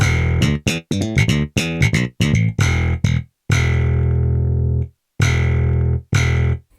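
Punchy, percussive slap bass notes from IK Multimedia MODO BASS played in quick bursts with sharp attacks and pauses between phrases, then longer sustained low tones, no voices.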